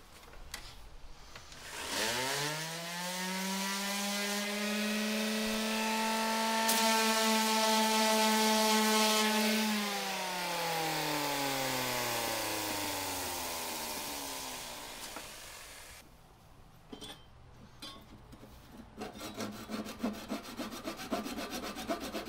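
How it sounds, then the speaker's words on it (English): A power saw bites into a maple cutoff scrap, whining as the blade drops in pitch and rises again through one long cut of about fifteen seconds. Quieter scraping and knocking follow. "using some of my maple cutoff scraps that I have laying around, I'm going to go ahead and cut them to the right thickness"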